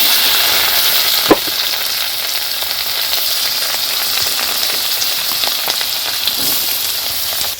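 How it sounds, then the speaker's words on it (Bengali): Carrots frying in white oil in a wok, a loud, even, close sizzle like heavy rain with a single sharp clack near the start and faint stirring throughout. "গাজরগুলো আগে ভাজা করব আমি সাদা তেল দিয়ে একটু ভেজে নিচ্ছি এগুলো"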